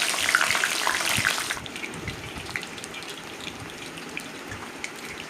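Small capsicum pieces fry in hot oil for cauliflower 65, starting as a loud, close sizzle that drops after a moment to a lighter, steady crackle with scattered pops.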